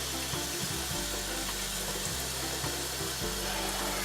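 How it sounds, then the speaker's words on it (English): Water runs steadily from a tap into a big cooking pot, a continuous rushing hiss with low gurgling pulses as the pot fills, close and fairly loud with no talk. "you should really fill up this big pot with lots of water"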